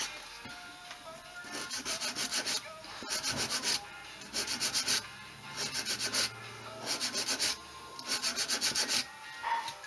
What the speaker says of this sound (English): Make sure your sandpaper is tight around your block.